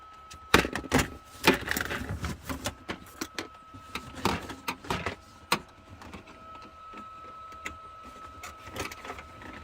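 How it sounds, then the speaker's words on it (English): Faint clicks, taps and scrapes come as a screwdriver backs out the bottom screws of a Freightliner truck's heater panel, in irregular short bursts with quiet gaps between. "what I do with a screwdriver, here it is. Take these bottom ones off."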